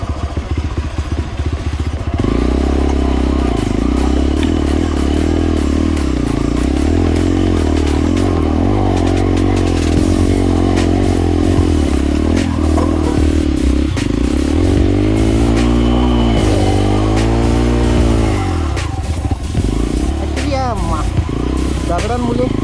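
A motorcycle rides over rocks on a forest trail, its engine loud and close, revving and labouring up and down with clattering thumps from the rough ground throughout.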